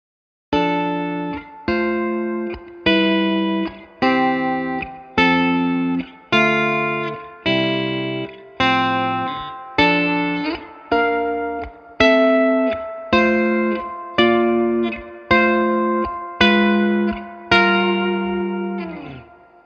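Electric guitar through a MESA/Boogie Fillmore tube amp, chords strummed one at a time in a steady rhythm, each ringing out with warm amp tone and a soft reverb tail, the last held long.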